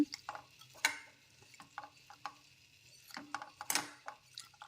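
Spoon scraping and clinking as chopped cucumber is mixed with turmeric and salt in a pot for Mangalore temple-style sambar, a series of soft irregular taps and scrapes, close and fairly quiet.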